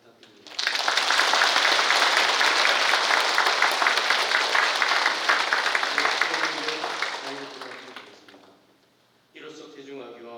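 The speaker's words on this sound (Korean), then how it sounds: "오늘 축복받은 예비 부모들을 위해 축하와 응원의 큰 박수 부탁드립니다." A church congregation applauds expectant parents after a blessing at a Sunday Mass, with loud, dense clapping lasting several seconds before it fades, then a voice speaks.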